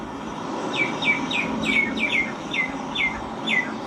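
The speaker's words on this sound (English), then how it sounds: "So many birds here." Small birds chirp outdoors on a hot day among palm trees, sharp high tweets repeating every half second or so over a steady wash of background noise.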